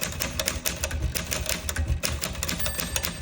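Rapid, uneven clacking of the keys of a rare 1961 Everest K2 manual typewriter with italic type, a steady stream of sharp mechanical strikes close by with no voices.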